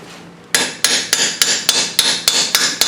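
A hammer taps an exhaust stud on a 1998 Subaru Legacy Outback, nine sharp metallic strikes at an even, brisk rhythm, close and loud with no talking.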